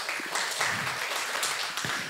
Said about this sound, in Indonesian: Kasih tepuk tangan dong untuk gembala-gembala.